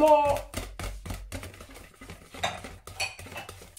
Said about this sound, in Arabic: دابا غادي نخلط مزيان هاد الخميره